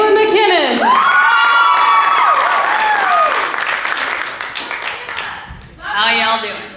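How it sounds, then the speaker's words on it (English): Loud audience applause and cheering for the week-two winner of a talent show, with whoops, shouts and high excited voices over steady clapping that tapers off, then swells briefly again. "round of applause for winner week two, Kayla MacKinnon."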